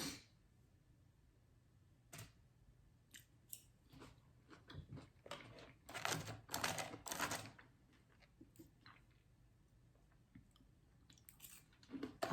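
Someone eats a Carl's Jr. breakfast of hash browns dipped in syrup, with soft crunchy chewing and bites close to the microphone in a quiet room, the loudest burst near the middle.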